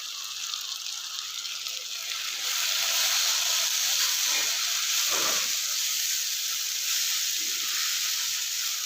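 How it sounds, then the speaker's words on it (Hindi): Okra masala with peeled tomatoes sizzles and hisses steadily in a pan, growing louder partway through, with faint scrapes and rattles as it is stirred. "अच्छे से जो है इसको चलाते हुए भून लेंगे दोबारा से"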